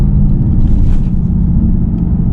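A Mercedes-AMG GT S engine gives a loud, deep rumbling growl through downshifts, with a steady low throaty drone and a brief rise in revs, heard close and without speech.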